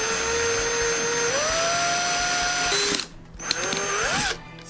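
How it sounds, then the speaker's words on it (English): A power drill whines steadily, its pitch rising as it bites, then cuts out briefly and spins up again, loud and close. "So we're going to drill a hole over here and just glue that in."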